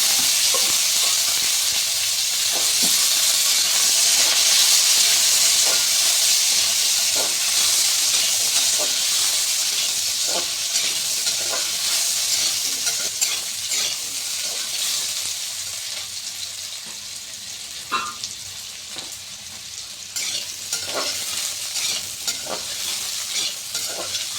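Squash and potato pieces sizzle and hiss steadily in a hot pan of lentil curry preparation, with occasional stirring clicks; a loud, continuous frying crackle that eases slightly toward the end.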